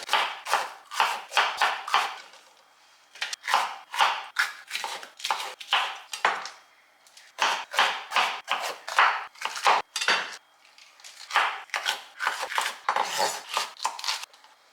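Knife chopping vegetables on a cutting board for roasting, crisp, close taps in rapid runs of several strokes, broken by short pauses between bursts.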